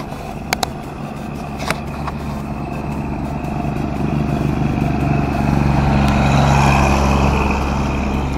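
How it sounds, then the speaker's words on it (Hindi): A very small tractor approaches along a rural road, its engine rumble swelling steadily louder and closer through the stretch, with a couple of sharp clicks early on. "एक ट्रैक्टर आ रहा है एकदम छोटा सा ट्रैक्टर है"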